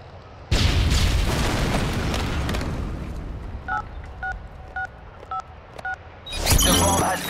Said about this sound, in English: The bomb has been planted.